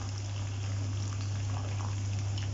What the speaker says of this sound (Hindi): इसको हम तेल में थोड़ा अच्छा तल लेंगे।